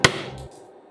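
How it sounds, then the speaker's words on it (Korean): A hammer gives a single sharp, close crack on a clear ice cube from a home ice maker, followed by a brief light skitter of shattering pieces and then quiet. "올리제빙기에서 나온 얼음은 망치로 살살 내려치니까"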